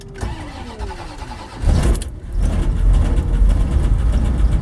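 A 1980 Dodge D150 drag truck's engine cranks with a whirring starter, then catches and settles into a loud, rumbling idle, close by in a cold, icy setting.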